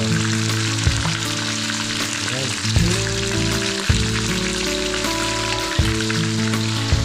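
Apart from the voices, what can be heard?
tilapia fish frying in oil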